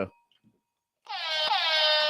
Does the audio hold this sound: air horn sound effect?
yes